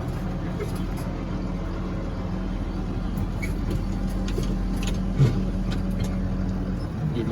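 A tractor towing a haybine folded into transport drives along a road toward home, its engine a steady low drone throughout with a small bump partway through.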